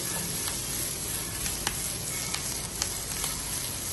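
Finely chopped capsicum fries in a pan for Chinese fried rice, giving a steady, dense sizzle throughout with a few faint clicks of utensil contact and no talking.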